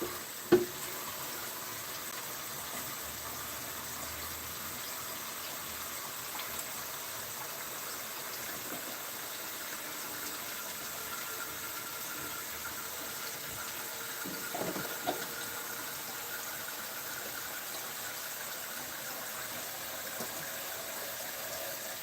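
Water from a kitchen faucet runs steadily into a sink, a continuous low hiss and splash heard alone at moderate level, with a few faint knocks and clatters.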